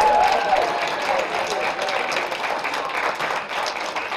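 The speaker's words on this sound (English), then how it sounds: "let's give our panelists a round of applause." Audience applause for a panel of speakers, a steady wash of many hands clapping at moderate level throughout, with a bright hum or tone in the first second and no voices.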